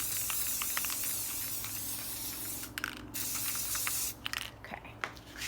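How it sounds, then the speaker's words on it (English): A can of spray paint hisses continuously for several seconds onto a taped cup, pausing briefly twice, close and fairly loud against a quiet background. "So I leave all the tape and everything on, and I spray it"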